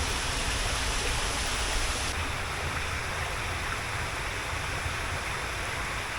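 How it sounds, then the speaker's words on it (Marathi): Continuous rushing water, a broad steady roar of a stream flowing close by under a bridge, with no breaks or voices. "आणि इकडून पाणी खाली जातं"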